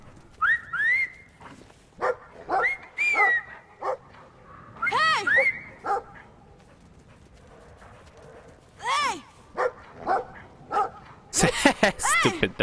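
A dog in the video game Brothers: A Tale of Two Sons barks and whimpers in short, repeated bursts, some yelps rising high, with quiet gaps in between and a few clopping steps.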